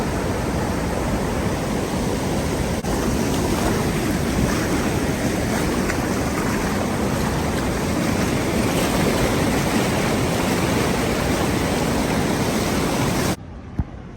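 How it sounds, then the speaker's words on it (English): Loud, continuous rushing of a strong overflowing water current in London roars for most of the clip with wind buffeting the microphone, then cuts off abruptly near the end. "Look at this strong water current."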